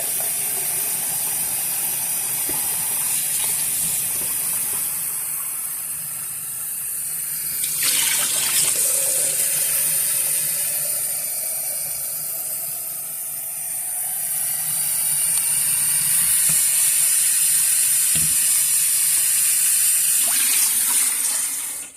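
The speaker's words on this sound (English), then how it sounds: "I'm gonna fill up this sink with 2 liters of water, clean water." Clean tap water runs steadily into a sink as it fills with about two liters, a continuous close hiss and gush that swells and eases over roughly twenty seconds with no voices.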